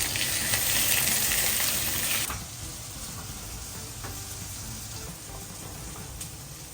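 Spices tempering in hot oil for a vegetable curry, a bright loud sizzle that drops to a quieter steady crackle after a couple of seconds, with occasional stirring clinks, close up and without talk.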